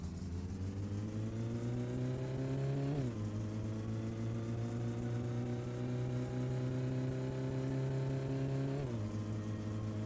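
A car engine in the video game My Summer Car revs high and steady, holding a sustained drone with two sharp gear-change drops, close and loud, with no talking.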